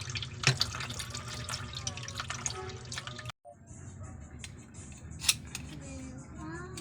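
Small scrapes and clicks from mussels being scraped clean while cooking, with metal-on-shell scratching, light dripping and running water in a kitchen. The sounds are close and fairly quiet, with a short pause midway.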